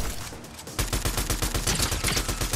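Rapid, loud gunfire bursts in Fortnite Chapter 5 rather than a single sniper rifle crack: a quiet lead-in, then a dense fusillade of sharp repeated shots at close range, with no talk.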